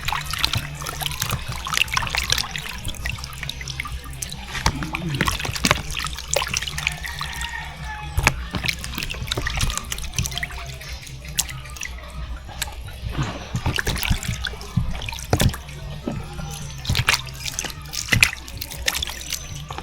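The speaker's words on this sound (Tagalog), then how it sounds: "Yan na, hugasan." Freshly caught fish being rinsed with water outdoors, trickling and splashing in irregular bursts with dribbles and drips, close by and fairly quiet.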